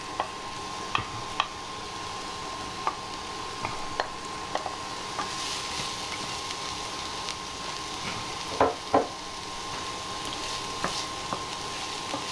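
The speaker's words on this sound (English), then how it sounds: "start frying the onion" Onion frying in a pan for curry puffs gives a steady soft sizzle, broken by scattered clicks and taps of stirring, close and alone with no talk.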